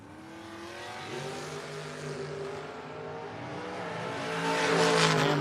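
2002 Camaro drag racing down the track at a No-Box 660 shootout, engine note climbing through revs as the car accelerates, growing louder toward the end with a rising roar.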